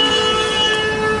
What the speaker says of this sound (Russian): что-то все сигналят, видишь,